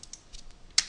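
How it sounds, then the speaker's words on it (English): Quick, light keystrokes on a computer keyboard, a few soft clicks with one sharper tap near the end, close and clear, with no voices. "And now you're going to type freely."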